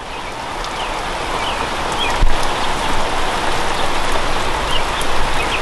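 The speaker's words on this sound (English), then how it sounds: "Another little downpour here." Steady rain pours down outdoors in a garden of bonsai trees, a dense continuous hiss of drops hitting surfaces, loud and close, with a single sharp knock partway through.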